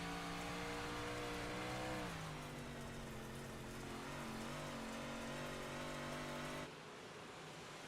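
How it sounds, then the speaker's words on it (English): Onboard a dirt track race car at Port Royal, the engine roars steadily with shifting pitch as the car bounces through a corner, loud and close, dropping off abruptly near the end. "You can hear the car bouncing up and down"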